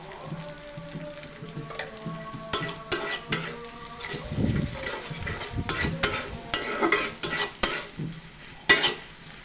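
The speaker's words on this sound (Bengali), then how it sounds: "পেঁয়াজটাকে ভালোভাবে নাড়বেন যাতে পুড়ে না যায়।" Onions frying in a pan for a dish of pangas fish head and tail, stirred with a utensil that clinks and scrapes against the metal over a soft sizzle, close by with no talking.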